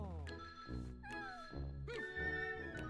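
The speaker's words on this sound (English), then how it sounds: "We got the cats all coming around again" Cats from Bowser's Fury meow in a close chorus of several overlapping, rising and falling cries, repeating in quick succession over a steady game music bed.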